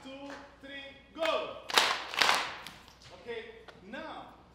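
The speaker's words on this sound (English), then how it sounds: "now let's clap for the king" Group clapping for the king during a Ghanaian Asafo libation ritual: a few loud, sharp bursts of hand claps in the middle, set between stretches of talking.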